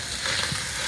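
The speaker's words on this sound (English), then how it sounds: "So you can see how that is sizzling." Chorizo and beef browning on a smoking-hot grill burner setup for a big batch of chili, giving a steady, close, continuous sizzle and crackle with no talk.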